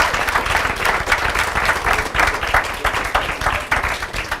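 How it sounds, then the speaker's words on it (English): Audience applause for the panelists at a panel discussion, a steady dense clapping from many hands that keeps up at full strength from start to finish. "I want to give our panelists a round of applause."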